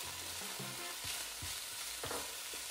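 Diced bamboo shoots stir-fried with pork in a wok, a soft steady sizzle with a few dull scraping strokes of the spatula, quiet and close, no talking.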